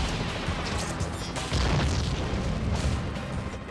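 Bombs exploding in the PS2 video game Spider-Man 3, a continuous, loud run of booming blasts that overlap one another with no pause and no speech.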